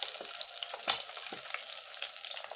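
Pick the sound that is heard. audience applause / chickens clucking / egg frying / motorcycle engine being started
egg frying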